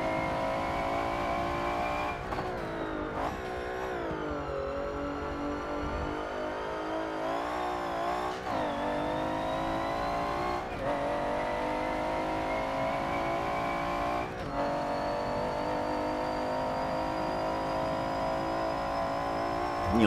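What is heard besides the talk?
650 horsepower V12 Jaguar XJS race car driving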